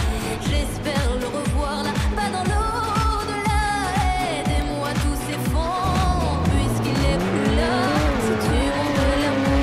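A car in the Roblox video game drives with repeated rising engine revs and squealing tires, loud and steady, layered over upbeat background music.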